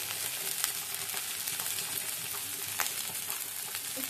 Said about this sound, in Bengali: আর এদিকে মশলাটাও কষে যাবে